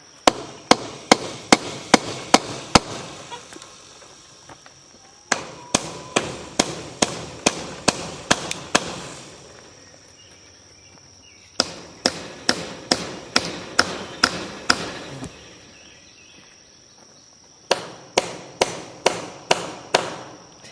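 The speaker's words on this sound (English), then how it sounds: "So I'm going to go up through there and nail all this down." Nails are hammered into wood while a raised garden bed is being built, with sharp, evenly spaced blows in four bursts of six to nine strikes each, separated by short pauses, loud and close with no talk.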